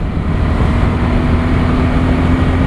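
A motorcycle engine on the road during a clutchless downshift, heard as a loud, steady, close drone mixed with wind rush, without a distinct rev change.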